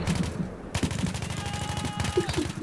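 Gunfire in Battlefield 3, with rapid automatic bursts rattling in quick repeated rhythm, broken by louder single shots and brief pauses, all close and loud with a faint tone in the background.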